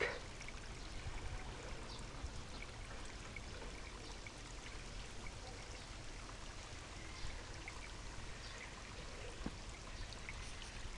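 Steady broadband rush of flowing water, continuous and fairly close, with a constant trickling texture and no voices.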